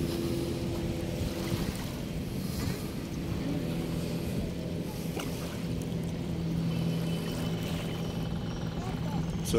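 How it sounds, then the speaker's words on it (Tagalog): Motorboat (bangka) out on Manila Bay, a steady low engine drone heard over wind and lapping water, distant and continuous for the whole stretch. "May bangka ako narinig pero hindi ko nakikita."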